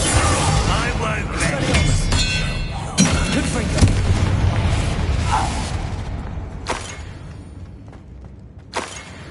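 A Confringo explosion spell in the video game Hogwarts Legacy, heard as several heavy booms and crashing impacts over a loud rumbling game mix that gradually thins out.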